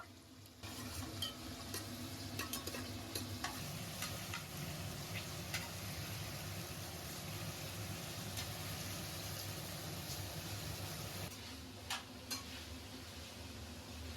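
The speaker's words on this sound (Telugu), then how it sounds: "ఇందులో ఫ్రైడ్ ఆనియన్స్ చేసుకుంటా ఉల్లిపాయలు వేసేసుకుంటున్నాను." Onions fry in hot oil during a chicken biryani preparation, producing a continuous, moderately quiet sizzle and crackle with faint scattered clicks, no voices present.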